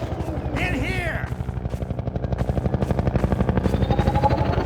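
A helicopter fires on the player in Half-Life 2 Episode Two, a fast, steady machine-gun rattle, loud and close, that starts after a brief, shrill creature cry.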